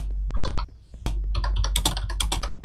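Rapid clacky typing on a computer keyboard, close and fairly loud, with clusters of quick keystrokes broken by a brief pause, over a low steady hum.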